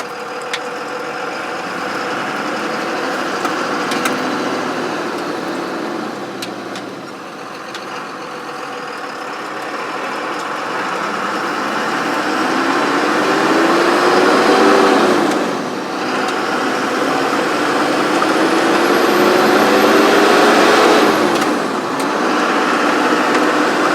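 A Dodge Ram 2500 pickup, freshly fitted with a replacement rear axle, drives a test run on local streets, its engine a steady interior drone that swells and eases as it accelerates and slows, with gear and tyre whine rising and falling.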